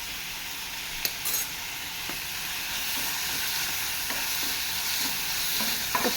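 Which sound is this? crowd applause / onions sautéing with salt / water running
onions sautéing with salt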